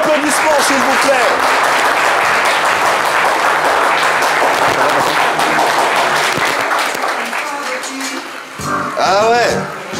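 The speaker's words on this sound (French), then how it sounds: "Est-ce qu'on peut avoir plus d'applaudissements, s'il vous plaît?" Loud audience applause on a live French talk show, dense clapping mixed with cheers and voices, tapering slightly before a brief renewed swell near the end.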